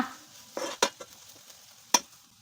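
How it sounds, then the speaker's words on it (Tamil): Onions and chicken masala sautéing in a pan, with a spoon stirring and scraping in a few distinct sharp strokes over a light sizzle, close and fairly loud. "வெங்காயத்து கூட நல்லா கிண்டி கொடுத்து ஒரு அஞ்சு நிமிஷத்துக்கு நம்ம சேர்த்த மசாலாவோட பச்சை வடை போய் நல்லா வதங்கி வரும் வதக்கிக்கோங்க"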